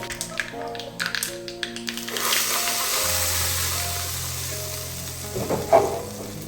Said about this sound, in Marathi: आता आपल्याला छान असा चटणीला तडका द्यायचा आहे